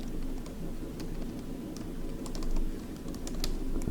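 Keys on a computer keyboard are tapped in a loose, irregular run of light clicks, fairly soft against a loud constant low hum.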